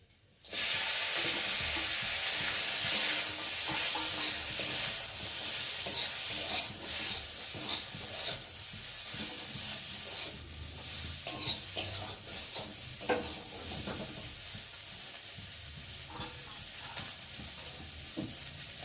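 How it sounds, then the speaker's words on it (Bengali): Small chuno fish frying in smoking-hot oil in a kadai, a loud continuous sizzle and crackle, close and sustained, with occasional stirring clatter and no talk. "আর এখন এই যে মাছগুলোকে দিয়ে হালকা করে ভেজে নেব"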